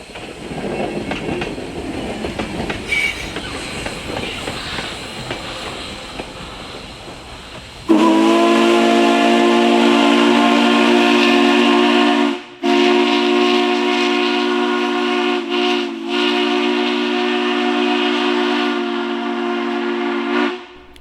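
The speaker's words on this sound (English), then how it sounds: "The whistle you just previously heard on the 4501 was the Virginia and Southwestern 3 chime." Virginia and Southwestern three-chime steam whistle on Southern Railway 4501, a 1911 Baldwin steam locomotive, blows a long, loud chord that cuts in sharply after rumbling train noise and holds for about thirteen seconds, dropping out briefly twice.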